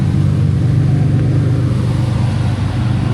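A Ferrari SF90 or Lamborghini supercar sends out a steady, loud low engine rumble that holds evenly for the whole moment, with no talking.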